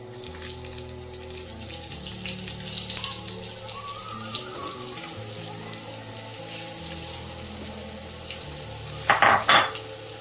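Steady sizzling of food frying in hot tempering oil, with a faint stirring scrape and a short burst of louder crackling near the end, while making stuffed brinjal.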